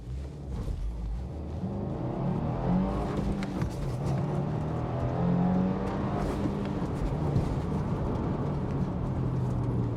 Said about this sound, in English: Now we want to test the straight line acceleration.